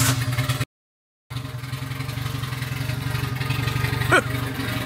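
A turbocharged Honda Integra engine runs at a steady idle, close and fairly loud, with a brief gap in the sound and a short rise in pitch near the end.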